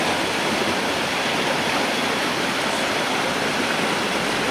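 Steady broadband rush of the Mae Sa waterfall's stream flowing past streamside food stalls, a continuous close wash of water with no pauses and no talk.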